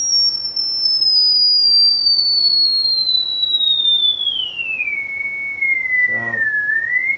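A steady, loud sine test tone from a preamp EQ plays alone and glides slowly downward in pitch throughout, with a brief faint noise burst near the end.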